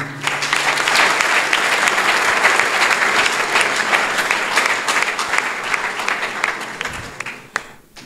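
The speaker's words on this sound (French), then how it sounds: "Vous pouvez encore applaudir." A large crowd claps steadily and loudly for several seconds at an outdoor campus gathering, a dense wash of many hands that thins and fades near the end.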